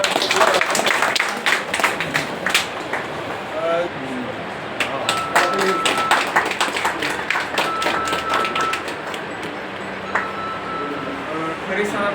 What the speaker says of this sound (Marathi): टाळ्या वाजून